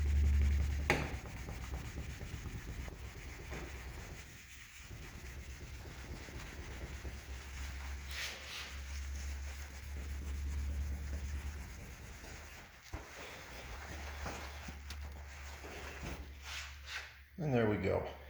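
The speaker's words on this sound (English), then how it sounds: "So I actually hit it with the buffer and a little rubbing compound and got that all cleaned up." A power buffer works rubbing compound over the hood of a Studebaker Avanti, giving a steady close whirring rub that runs nearly continuously with a few brief pauses and a louder burst near the end.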